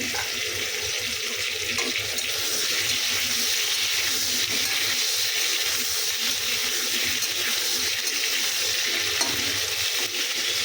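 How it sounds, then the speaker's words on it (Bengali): Potatoes fry in a pan with a loud, steady, hissing sizzle that carries on without a break, close up and with no one talking. "আলু ভাজা হচ্ছে।"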